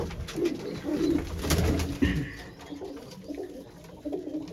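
Large pigeons in a loft coo in soft, rolling phrases up close, with a brief rustle midway.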